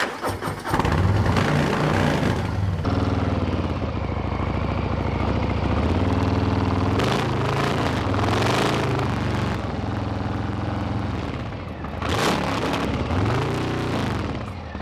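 A Harley-Davidson motorcycle engine cranks, fires and settles into a loud, close, throaty idle, then revs up in repeated rising and falling throttle pulls as it rides away, with no talking.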